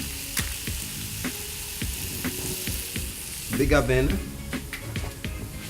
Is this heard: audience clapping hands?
no